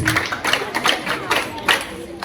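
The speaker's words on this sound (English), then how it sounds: "let's give the students some applause" Scattered clapping from a group at a school inter-house quiz, uneven and moderately loud, with a murmur of voices mixed in.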